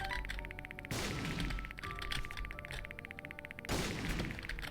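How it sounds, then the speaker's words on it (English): Bombs exploding in The Binding of Isaac Afterbirth+, a couple of booming blasts with crashing bursts spaced a few seconds apart over a steady game-music bed, moderately loud. "Hang on, just a couple more bombs."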